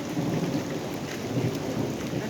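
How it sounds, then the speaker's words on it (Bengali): Heavy rain pours down in a steady, dense roar during a storm, with low rumbling thunder underneath throughout, close and loud with no voices. "বৃষ্টি হচ্ছে এখন পুরো"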